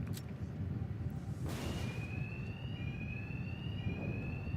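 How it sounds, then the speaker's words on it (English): In a Batman video game, an alarm siren wails with a rising sweep and then sustained high tones, over a low rumbling game background. "All right, I'm gonna try to make this alarm stop as soon as possible, Chad."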